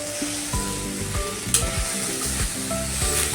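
Moringa leaf vegetable cooking with turmeric in a pan, a steady close sizzle with stirring scrapes and clinks of a spoon against the pan.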